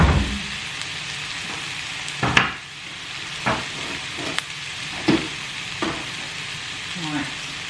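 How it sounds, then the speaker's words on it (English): Jackfruit frying in a pan with pepper, a steady close sizzle broken by occasional scrapes and clacks of stirring, with no speech. "going to leave that for a sec to cook for a little bit on the pepper"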